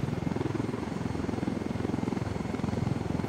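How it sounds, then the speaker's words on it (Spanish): A helicopter from the video game Ghost Recon Wildlands gives a steady, rapid rotor thump with a broad engine roar, fairly loud and continuous, with no voices over it. "Adelante un helicóptero."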